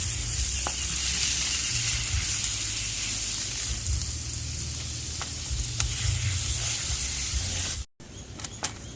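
Minced pork stir-fried in a small camping pan for Thai basil pork, sizzling loudly and steadily with occasional scrapes of stirring, cutting out briefly near the end.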